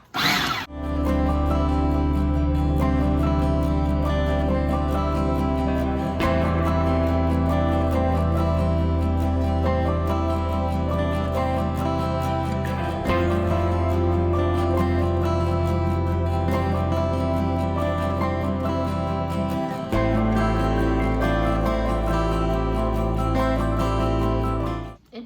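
A food processor chops garlic cloves with a steady, loud motor whir that runs continuously for about 25 seconds, shifting pitch slightly as the load changes, with no talking.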